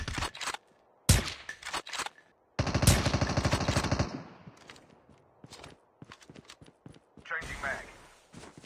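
Bursts of automatic gunfire in Call of Duty Mobile battle royale, with loud clattering volleys of rapid shots broken by pauses and scattered single shots, along with footstep-like clicks.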